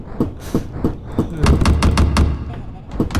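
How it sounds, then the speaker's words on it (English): Repeated bouncy ball gun shots in the video game Juice Galaxy, a string of punchy thuds and taps fired in quick irregular bursts, with a denser rapid volley partway through. "Bouncy ball gun."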